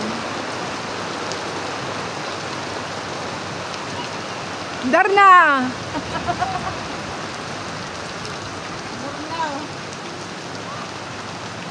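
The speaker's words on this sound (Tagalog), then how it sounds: "Sayang, umuulan. Hindi maganda ang weather ngayon." Steady rain hisses throughout, with a short shouted voice cutting in briefly midway before the rainfall continues alone.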